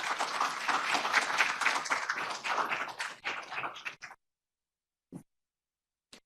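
Audience at an MLK workshop applauding to welcome speaker Lamont Robinson, with a burst of dense clapping that thins out and stops after about four seconds, followed by a couple of isolated taps.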